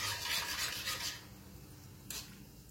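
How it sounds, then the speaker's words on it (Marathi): Oil being stirred around khoya gulab jamun frying over a low flame, a soft hissing bubble with light scraping in the pan and a brief brighter swish near the end. "हे पहा, याप्रमाणे हे तेल असं हलवायचं आहे"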